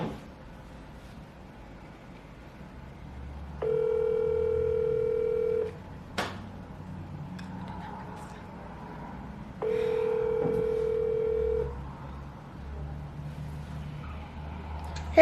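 A WhatsApp phone call rings back with two long repeating tones separated by quiet gaps, heard over faint background traffic noise.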